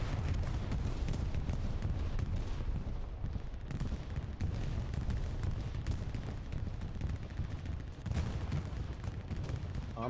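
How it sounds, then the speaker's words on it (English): A bombing run in a large-scale war video game match, heard as a dense, continuous barrage of heavy explosions and gunfire, loud and rumbling throughout with no pauses. "bombing run just came in from Legion to help try to save a little bit of what they got"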